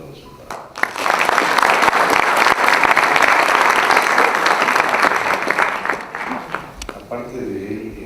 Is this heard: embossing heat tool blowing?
no